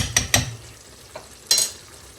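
Carrot and onion in tomato sauce in a pan, stirred in a few quick knocks and scrapes: two sharp hits, a faint tap, then another scrape over a low background.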